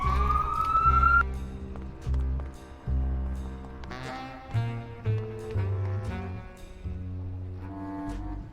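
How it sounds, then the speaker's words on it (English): Sirens wail during a Grim Fandango play session, opening with a rising sweep and then a run of sustained, shifting tones at moderate loudness, with no talking over them. "oh good, sirens."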